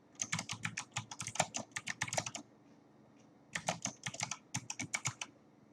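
Quick clicking keystrokes on a computer keyboard while someone fills in an online form, coming in two rapid bursts with a short quiet pause between them, close and crisp.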